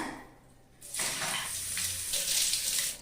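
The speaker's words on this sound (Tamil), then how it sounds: "நம்ம பறித்த இலையை வந்து நல்லா தண்ணியில் வாஷ் பண்ணி எடுத்துக்கணுங்க" Freshly picked leaves being washed in running water, with a quiet start and then a strong continuous tap-like splash and gush that stays loud to the end.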